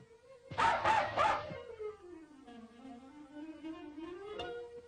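A voice imitates a puppy dog, giving three quick, loud yapping barks in a row, followed by a long, sliding whimpering whine that trails off.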